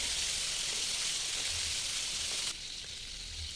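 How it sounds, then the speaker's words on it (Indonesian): Marinated chicken, chilled for an hour, deep-frying in oil for nasi lemak, a close, steady crackling sizzle that drops slightly in level partway through and then carries on quieter. "kita goreng ayam yang udah kita diamkan di kulkas tadi ya selama 1 jam"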